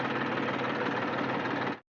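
Tractor engine running while a young woman sits at the wheel trying to drive it; a steady, close mid-to-low mechanical rumble with faint knocking, holding evenly before cutting off abruptly near the end.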